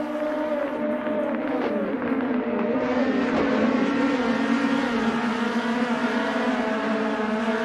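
Race car lapping the TT Circuit Assen in the Assetto Corsa video game with a 2018 DTM car, engine note rising and falling steadily through gear changes, continuous and fairly loud throughout.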